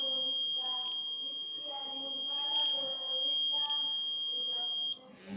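Electronic buzzer alarm on a Raspberry Pi accident alert system, a steady high-pitched tone held for about five seconds before cutting off, with faint talking underneath.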